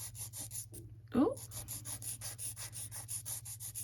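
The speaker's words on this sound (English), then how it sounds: "gently file. This is just a 240 file." A 240-grit nail file is drawn gently across a press-on nail. It makes soft, quick, evenly spaced rasping strokes, close and quiet, with a faint steady hum behind them.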